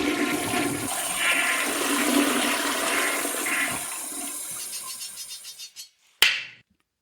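A toilet flushes loudly up close, a steady rushing roar of water that fades and gurgles out over several seconds, ending in a brief sharp clunk as the tank refills; no voices.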